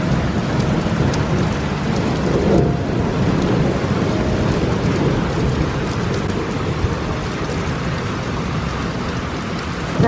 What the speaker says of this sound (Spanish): Y me encanta la lluvia y este ruido.